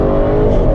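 Audi RS6 Performance 2023 engine and exhaust under acceleration, a steady loud, deep rumble with a dense low drone heard continuously from nearby, no pauses or talk.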